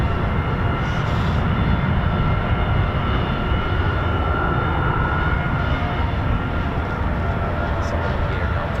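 A military aircraft approaches at an RAF airfield, a steady broad engine roar that holds loud and continuous throughout without clear peaks, with a voice faintly present.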